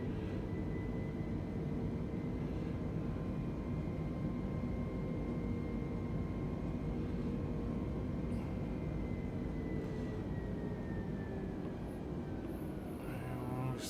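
A320neo engines in a flight simulator during the takeoff roll, a steady low roar with a rising whine as the jet accelerates, sustained and fairly quiet.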